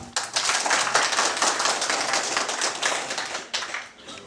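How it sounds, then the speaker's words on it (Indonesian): Applause at an event at the KIP Aceh office in Banda Aceh, a crowd clapping loudly and steadily for about four seconds, dense and close, with no talk over it. "Tepuk tangan kita semua."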